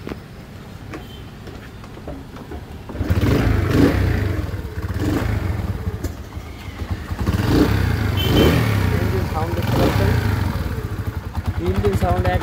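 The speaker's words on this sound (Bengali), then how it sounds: "ইঞ্জিন সাউন্ড একবারে খুবই সুন্দর ইঞ্জিন সাউন্ড।" A Honda CD 80 80cc motorcycle engine runs after a wash, idling with a steady putter before revving up louder in swells, close by, with a person talking over it.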